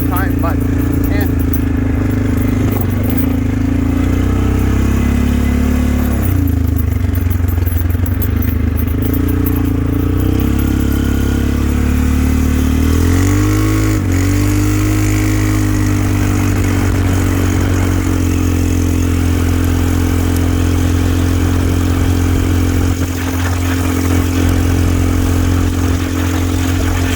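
A Polaris Sportsman 500 ATV engine idles steadily on its own without throttle after a carburetor cleaning, a continuous low rumble with some clatter running throughout at close range.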